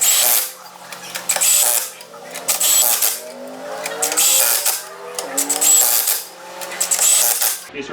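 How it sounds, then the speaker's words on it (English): An impact wrench on setting 3, fitted with a chrome impact socket, fires in repeated loud rattling bursts with brief pauses between them, working a truck wheel's lug nuts up close. "that was setting 3 with a chrome impact socket"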